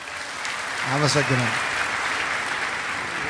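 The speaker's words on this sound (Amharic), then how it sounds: "አጨብጭቡለት" Audience applause at a church testimony gathering, a steady wash of clapping that runs the whole time, with a brief spoken voice rising over it near the start.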